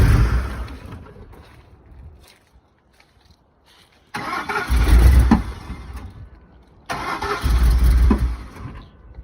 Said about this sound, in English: While he's trying to get that started up, she does start up and then cuts off.